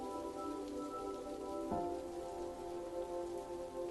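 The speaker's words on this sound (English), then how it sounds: "a heavy rain was beating against her bedroom window." Heavy rain beats against a bedroom window in a dense, continuous patter, with a steady tonal hum running underneath and one brief louder knock partway through; no one speaks.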